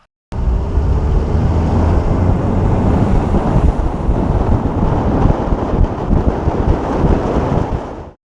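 A Princecraft Hudson 170 boat with a Mercury 150 Pro XS outboard accelerates across open water, heard as a steady, loud roar of engine, hull and water buried under heavy wind buffeting on the microphone.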